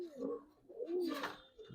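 Coloured Giribaz pigeons coo softly and close by in a couple of short, throaty phrases, with a faint rustle in between.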